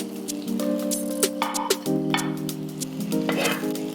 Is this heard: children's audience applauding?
no